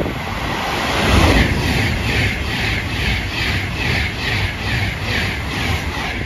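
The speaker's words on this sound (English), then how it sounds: "That pendolino there is a crew train in service." A Pendolino crew training train runs along the West Coast Main Line in the Trent Valley, a loud, steady rolling rumble with regular rhythmic wheel beats.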